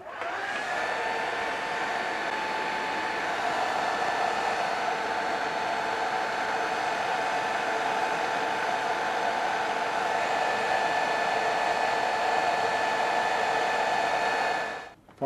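A hair dryer blows steadily on freshly painted diorama architecture, a loud continuous whooshing whir with a faint tonal whine that runs unbroken for about fourteen seconds before cutting off abruptly.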